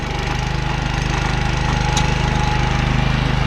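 An almost 20-year-old John Deere JE75 self-propelled walk-behind lawn mower runs right after its first pull-start, its small engine chugging loudly and steadily at a rough idle with a rapid, knocking pulse, close by and without voices.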